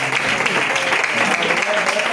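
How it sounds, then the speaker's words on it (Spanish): Dense applause from a church congregation at a youth gathering for the Seven Words of the Cross, steady and fairly close throughout with no break. "Un aplauso."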